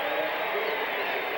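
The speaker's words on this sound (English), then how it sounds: "the crowd applauding Buddy Ryan's defensive team's effort" Football stadium crowd at a 1986 Chargers at Eagles game in Philadelphia, applauding the defense: a steady, broad wash of clapping and cheering at even loudness, with no break.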